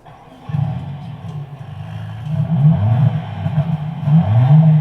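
A Mercedes-AMG CLA 45 S engine revs up with deep, throaty bursts, growing louder and rumbling with crackling pops, close by.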